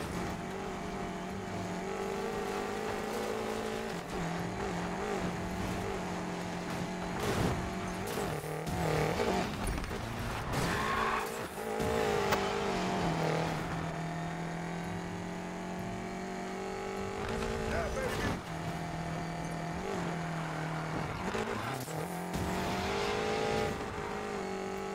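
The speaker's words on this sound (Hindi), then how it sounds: "ये ड्रिफ्ट मारना यहाँ पर बहुत मुश्किल है, ये मैं सिर्फ घुमा भी रहा हूँ फिर भी ये मुड़ ही नहीं रही कार।" A BMW X6 M in an off-road race in Need for Speed Payback, its engine droning and revving with shifting pitch as it drifts and skids, tires squealing at times, loud and continuous.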